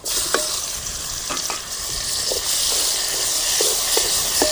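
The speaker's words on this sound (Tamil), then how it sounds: "தக்காளி பழத்தை போட்டு நல்லா வணக்கலாம்" Steady frying sizzle of tomatoes sautéing in a pan, with scattered soft clicks and taps of a spoon stirring, continuous and close.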